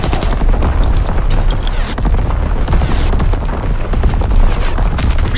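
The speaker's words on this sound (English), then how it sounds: "Firing primary battery." In Call of Duty WWII online play, an artillery battery fires as a dense, continuous barrage of booms and rapid gunfire, loud and unbroken throughout with no clear talking.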